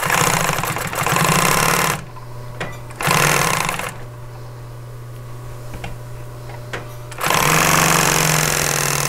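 Upholstery sewing machine stitching fabric with half-inch seam allowances, loud rapid whirring runs in three bursts separated by quieter pauses with a low hum and occasional clicks.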